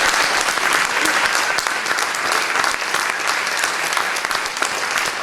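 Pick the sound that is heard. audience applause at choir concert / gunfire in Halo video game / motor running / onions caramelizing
audience applause at choir concert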